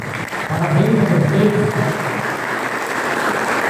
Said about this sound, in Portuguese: Aqui eu quero pedir uma salva de palmas para vocês